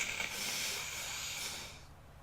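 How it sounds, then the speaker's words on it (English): A person blows their nose in one steady, breathy, hissing exhale lasting about two seconds that tapers off at the end, close and fairly quiet, with no talking. "I need to blow my nose"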